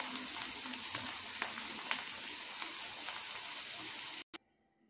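Cauliflower pitha sizzling in hot oil with a steady, close crackle and a few soft utensil taps, cutting off abruptly just before the end.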